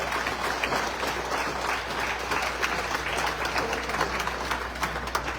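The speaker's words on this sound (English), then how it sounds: "Let us give the President a round of applause." A crowd applauds steadily, dense clapping filling the space at a consistent loudness throughout.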